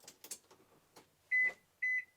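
Two short electronic beeps sound in succession from a car as power comes on during a fuel injection swap, preceded by faint clicks and rustling.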